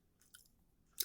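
Someone chewing gum close to the mic: a few soft, wet smacks and clicks, the last one louder, with no speech over them.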